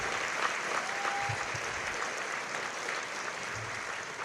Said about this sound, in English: please join me in a round of applause for the Crowell family.